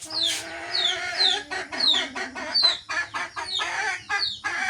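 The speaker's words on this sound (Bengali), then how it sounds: "সকালবেলা উঠে মুরগিগুলো খাওয়ার জন্য কি তাড়াহুড়া" Chickens cluck and squawk in a repeated series of sharp, rising calls in the morning, eager to be fed, close and fairly loud, with no one talking.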